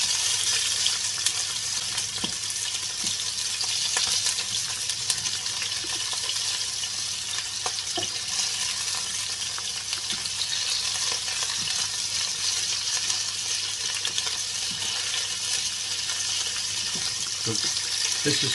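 Chicken pieces frying in oil in a griddle pan on an induction hob at full heat, a steady sizzle running throughout with occasional stirring clicks and brief watery sounds.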